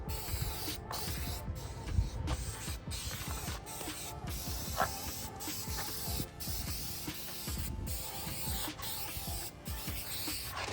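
Paint spraying onto a custom transport wheel, a steady hissing mechanical spray running throughout with brief regular breaks and some rattling, fairly close and alone without talk.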